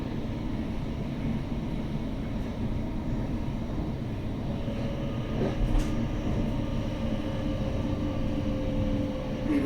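Thameslink train on the Luton to Rainham line, a steady close rumble of wheels and motors running throughout, with a slight swell and brief higher whine near the middle.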